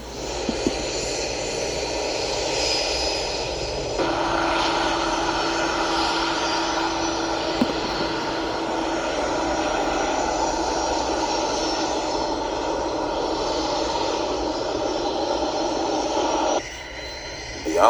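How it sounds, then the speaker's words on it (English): A-29 Super Tucano turboprop engine running steadily, a loud, continuous droning roar with a constant whine, shifting slightly in tone partway through and easing briefly near the end. "It was time for the A-29 Tucano to embark on a mission."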